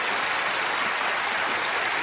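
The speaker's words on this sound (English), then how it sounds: "everyone else, give our stars a round of applause" Studio audience at a magic competition show applauding the performers, a dense, steady wash of clapping that fills the whole stretch without a break.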